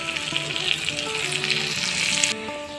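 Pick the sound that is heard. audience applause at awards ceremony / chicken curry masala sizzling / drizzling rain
chicken curry masala sizzling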